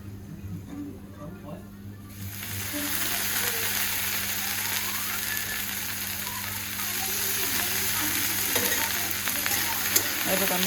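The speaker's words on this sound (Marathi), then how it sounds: "आता आपली भेंडी भाजत आलेली आहे" Okra roasting in a pan in a home kitchen, a steady sizzle that swells and stays constant once oil is added after about two seconds, with faint stirring under a low background hum.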